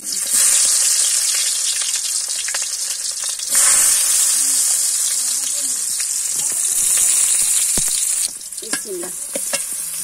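Onion, tomato and green chili sizzle and fry loudly in a hot pan, a steady bright hiss broken by a brief pause and stirring scrapes, with a few clinks near the end.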